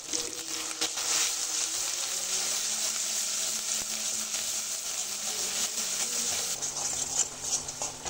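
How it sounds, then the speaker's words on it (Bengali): A ground paste of ginger, garlic, cumin, garam masala, onion, dried chili, turmeric and salt fries in mustard oil, giving a soft, continuous hiss with faint watery crackles throughout. "মশলাটা আমার খুব ভালো করে তেলে ভাজা হয়ে গেছে।"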